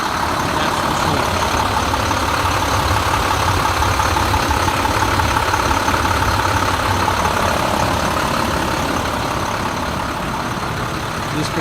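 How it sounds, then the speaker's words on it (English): A 2005 International CXT 7300 4x4 truck's DT466 non-emissions inline six-cylinder diesel idles steadily, a loud, even low rumble with constant clatter throughout and no voices. "DT466 engine, which is basically a non-emissions inline six-cylinder, pretty daggone beast motor."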